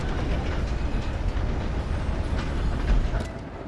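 A train rolls along in the video game Red Dead Redemption 2 Online, giving a loud, continuous rumble with dense low mechanical noise that fades slightly at the end; no talking.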